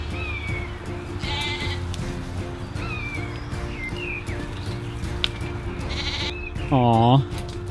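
Sheep bleat in a countryside field, several calls at varied distances, one loud close bleat near the end, with light outdoor ambience and occasional birdsong.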